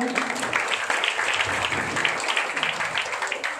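An audience at a family-themed religious gathering claps together, a dense, steady patter of hands at close range lasting a few seconds with no talk over it.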